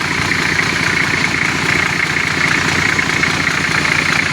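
A repaired Nissan Patrol engine idles loudly and steadily up close, with an even, rough mechanical chug and a knocking vibration throughout, no talk.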